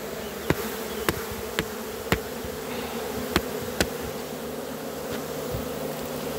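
Honeybees hum steadily around a failing hive being cleared out in summer, a close, even drone punctuated by several sharp clicks or taps at irregular intervals, with no voices.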